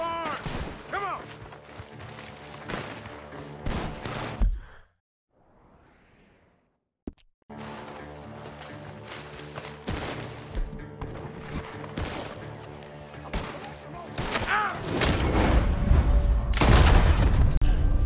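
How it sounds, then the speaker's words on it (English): Sharp gunfire bursts from a barn in the Western video game Red Dead Redemption 2, mixed with game music, hoofbeats and mechanical clatter, with a brief near-silent gap midway and a loud, dense finish. "The gunshots are coming from that barn."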